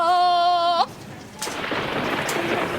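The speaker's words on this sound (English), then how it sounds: "Here comes the rain." Rain sets in as steady broadband hiss after a brief tonal sound cuts off, with a faint rumble of thunder underneath; a loud, continuous downpour fills the rest.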